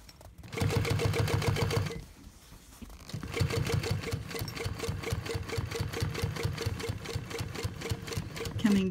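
A sewing machine stitching close by in steady rapid mechanical bursts, a pause near two seconds, then continuous running with an even needle rhythm until the end.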